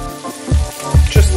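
White wine vinegar hits a hot pan with sea bream and collard greens cooking, giving short bursts of sizzle and splatter, close and loud, in three quick spurts.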